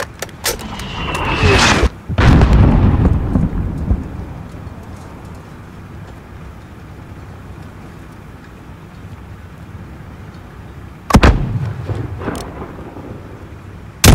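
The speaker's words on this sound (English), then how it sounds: "Alex, there is another Al Qatala mortar team. Take them out" Heavy mortar explosions boom in a Call of Duty Modern Warfare campaign battle, two loud close blasts with rumbling debris tails separated by a long stretch of low ambient wind, and a sharp hit at the very end.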